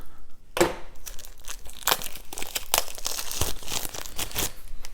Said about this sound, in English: we're going to go ahead and open up this stack of cards first